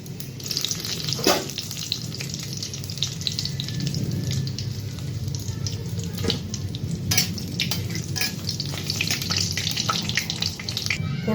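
Bay leaf, panch phoron and dry red chilli sizzle and crackle in hot cooking oil with a steady fizz and scattered pops, occasionally stirred, with no talking.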